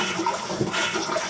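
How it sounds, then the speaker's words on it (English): A household toilet being flushed repeatedly after being filled with water to wet dried-out seals, giving a steady rushing swirl of water close by that runs the whole time with no voices. "I am going to fill this toilet up and just flush it as much as I can."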